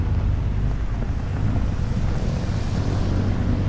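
Typhoon floodwater, brown and high, rushes beneath a bridge seen from above, a loud unbroken roar mixed with heavy wind buffeting the microphone. No one speaks.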